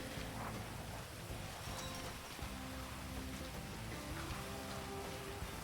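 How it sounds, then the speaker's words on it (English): Heavy video game rain hisses steadily and evenly, a dense wash of drops with no other sounds, moderately quiet throughout. "It's really so- heavy rain."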